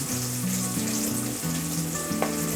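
Grated coconut sizzling in a hot pan with chillies and curry leaves for jackfruit erissery, a dense steady fry with faint stirring scrapes, close by and with no voices.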